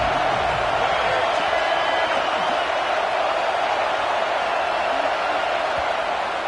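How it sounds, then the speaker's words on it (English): Broad, steady roar of a football stadium crowd cheering and buzzing during a timeout in a tied Alabama at Texas game, a dense wall of distant voices that holds constant throughout without a break. "And the crowd coming to life here, trying to help this defense down in the red zone."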